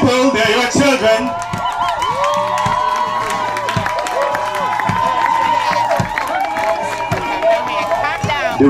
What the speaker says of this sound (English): You can give your loud applause as the recruits start.